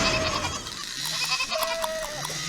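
Goats bleating while grazing in rural Rajasthan, several wavering calls rising over a steady outdoor hiss, one longer bleat standing out near the end, with no talk.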